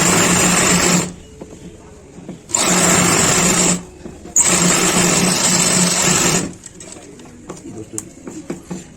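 A sewing machine stitching trouser fabric runs in three loud, rapid whirring bursts with short pauses between, then stops while faint handling noises continue.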